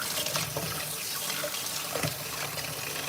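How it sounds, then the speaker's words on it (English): Tap water runs steadily into a sink while hands are washed beneath it, a continuous close splashing hiss with small shifts as the hands move through the stream, no talking. "I need to wash my hands."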